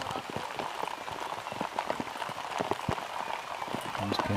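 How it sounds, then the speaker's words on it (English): Heavy rain pours steadily on a cricket ground during a T10 match, a dense hiss with scattered drops, while a commentator speaks over it. "The rain is starting to come down pretty heavily now."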